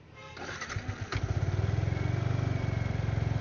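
A motorcycle engine catches and settles into a steady, even idle held by a throttle lock, close and fairly loud with rapid regular pulsing after a brief starting clatter.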